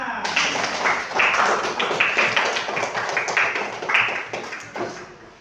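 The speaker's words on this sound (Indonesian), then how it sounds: "Tepuk tangan untuk buat semuanya." Students in a classroom clap together in a lively burst of hand claps, rapid and overlapping with a rhythmic patter that rises and falls, mixed with some voices.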